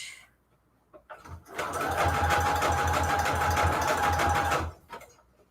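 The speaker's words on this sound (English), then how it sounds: "And I'm just looking down the line here, and that's where I'm sewing." A sewing machine runs a zigzag stitch through junk journal pages, a steady rapid mechanical chatter lasting several seconds between brief handling clicks.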